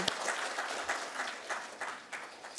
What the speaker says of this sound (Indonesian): Mari kita sama-sama aplaus untuk pemerintah Provinsi Papua.